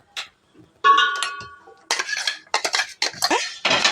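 Large spoon knocking and scraping around a bowl while mixing egg cake batter at home, a run of clinking metallic taps and short scrapes in uneven bursts, close and fairly loud, no talk.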